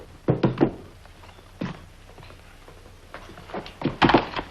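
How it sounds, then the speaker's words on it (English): A handgun is set down on a table in a Western drama scene, with a few dull wooden thunks close by and some shuffling between them. "Draw your gun and put it on the table."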